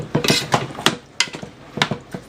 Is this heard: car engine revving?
no